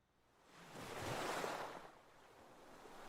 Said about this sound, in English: Ocean coast, ocean side.